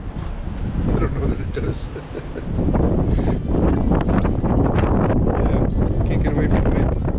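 Strong wind during heavy snow, buffeting and roaring across the microphone in loud, continuous gusts that swell after a brief lull, with a person talking over it.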